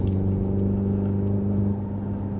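Hyundai Ioniq 5 N electric car playing its simulated engine sound in Eco mode, a steady, subdued low hum and rumble with even tonal layers, close and constant, no speech.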